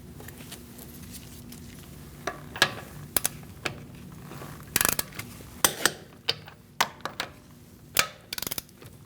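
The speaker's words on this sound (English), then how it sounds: "We're going to torque our wheel to 96 foot-pounds." A torque wrench tightening front wheel lug nuts to 96 foot-pounds on a 2008–2014 Mercedes-Benz C300, quick rattling ratchet clicks in short bursts, with a few sharper clicks as each nut reaches torque, close and fairly quiet.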